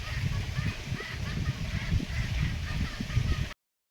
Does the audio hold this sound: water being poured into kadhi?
no